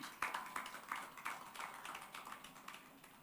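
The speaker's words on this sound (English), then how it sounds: "Give a round of applause to the Nigerian Exchange." Sparse clapping from a small audience at a workshop for the Nigerian Exchange, scattered claps with uneven timing, quiet and somewhat distant.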